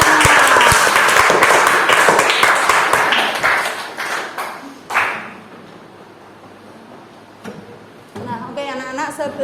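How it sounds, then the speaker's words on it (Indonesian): Schoolchildren in a classroom burst into applause, dense clapping that fades after about five seconds into quiet, with a voice speaking near the end. "Oke, beri tepuk tangan untuk kalian semua."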